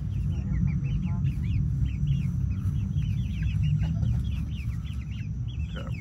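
Chickens cluck and chatter busily inside a coop built from a chain-link dog kennel pen, a dense flock heard close over a low rumbling background, with some talk mixed in.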